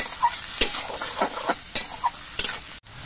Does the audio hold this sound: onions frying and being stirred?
yes